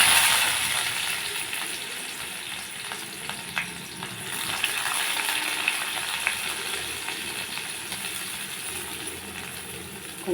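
Onions frying in a small amount of oil in a kadai, a steady close sizzle running through the whole stretch with occasional light clinks and stirring scrapes, no voices.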